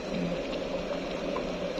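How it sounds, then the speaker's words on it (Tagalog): A steady bubbling rumble of water coming to a boil for coffee, close and continuous, with no voices. "Kumukulo na siya."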